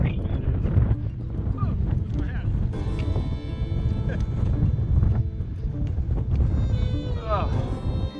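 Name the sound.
wind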